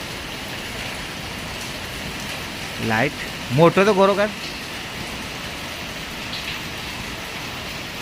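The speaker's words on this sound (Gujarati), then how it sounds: "વરસાદ બહુ પડવા માંડ્યો અચાનક." Heavy, sudden rain pours steadily outside a villa, a dense and even roar that fills the scene while someone speaks briefly over it.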